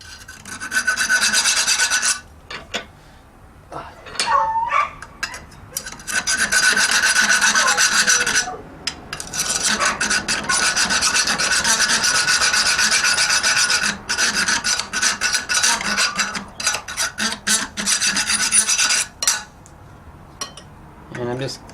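A file rasps back and forth inside a wooden block plane being made, loud close scraping strokes in long rhythmic runs with short pauses, plus occasional metallic clinks.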